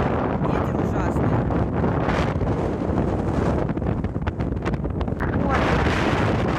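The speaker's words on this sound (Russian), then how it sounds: "Ветер ужасный." Strong late-March wind roaring across an open field near a stable, buffeting the microphone in a constant loud rush with gusty swells and no voices.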